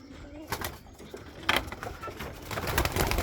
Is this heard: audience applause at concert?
no